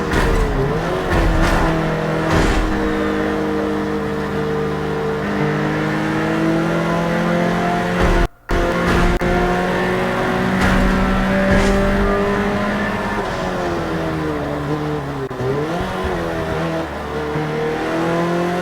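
Loud, sustained engine revving from a car in a racing video game, the note climbing and dropping through gear changes with a short break partway through, no voices over it.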